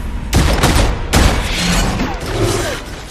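Gunfire in an action movie scene: a few sharp loud shots in quick succession over a dense, booming soundtrack, with rumbling impacts trailing off afterward.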